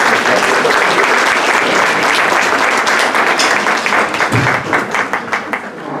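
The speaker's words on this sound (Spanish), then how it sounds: "Un aplauso, por favor." Audience applause at a round-table panel discussion in a university setting, a dense, steady burst of clapping from a seated crowd that thins out into scattered claps toward the end.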